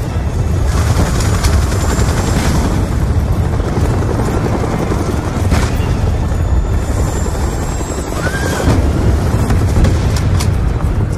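An enemy helicopter in Call of Duty Black Ops 2, set in the war in Afghanistan, drones steadily and loudly throughout, its rotor roar blended with battle noise and occasional sharp effects.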